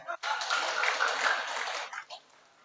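Short burst of audience clapping at an official gathering with speeches in Lakbok, Ciamis, rising quickly, holding for under two seconds and then trailing off into a few scattered claps.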